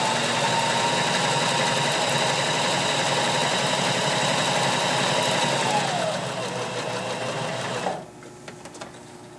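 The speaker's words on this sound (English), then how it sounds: "I can add a decorative stitch to anything that I'm sewing" A Janome HD3000 sewing machine runs a decorative stitch with a loud, steady mechanical whir that holds for several seconds, slows, then stops, leaving faint handling clicks.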